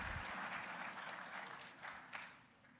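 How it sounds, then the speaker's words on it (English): An audience at a military community salute event applauds after the national anthem, a steady wash of clapping from a crowd, fairly distant and fading toward the end. "How about a round of applause for the Fort Bliss Sergeant Audie Murphy Club and that beautiful rendition of the national anthem."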